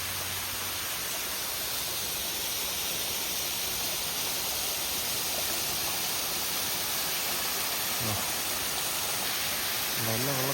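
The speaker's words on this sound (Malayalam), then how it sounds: "നല്ല വെള്ളച്ചാട്ടം." Roadside waterfall running low in a dry spell, a constant close broadband roar of falling water that fills the whole stretch, with a brief murmur of voices near the end.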